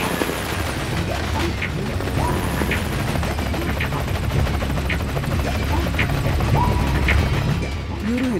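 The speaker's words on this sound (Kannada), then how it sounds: "ಇವರು ಹೆಲಿಕಾಪ್ಟರ್ ಇಂದ ಟ್ರೈನಲ್ಲಿ ಯಾಕೆ ಲ್ಯಾಂಡ್ ಆಗ್ತಿದ್ದಾರೆ?" An animated helicopter sets down on top of a moving train, its rotor pounding in a steady rhythm over a constant mechanical whir and rattle. The sound is loud and continuous throughout.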